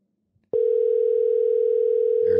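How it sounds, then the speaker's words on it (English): A telephone dial tone sounds for about two seconds as a steady, loud, unbroken hum that starts abruptly, with a brief burst of ringing or line noise at the very end while a call is placed. "There's one ring. It's ringing."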